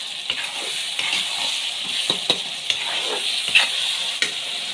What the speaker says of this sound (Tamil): கரம் மசாலா ஆட் பண்ணிட்டோம்னா கொஞ்ச நேரம் போட்டு நல்லா வதக்கி வரணும்